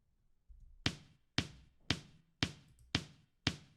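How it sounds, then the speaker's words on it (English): Six evenly spaced kick drum hits from a live jazz kit sample, played solo, each a sharp thump with a short decaying tail and a faint low rumble before the first. "The kick sounds like this."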